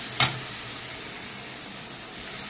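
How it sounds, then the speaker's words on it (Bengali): Water poured into fried spice paste in a pan sets off one sharp, brief hiss, followed by a steady, moderate sizzle that carries on to the end. "এখন আমি এর ভিতরে দিয়ে দেবো কিছুটা জল"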